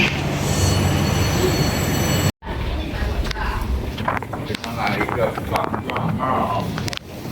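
A subway train in China rumbles and rattles steadily with squealing wheels, then a brief cutout, followed by continued rolling carriage noise with scattered clatter and faint voices.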